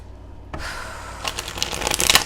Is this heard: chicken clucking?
no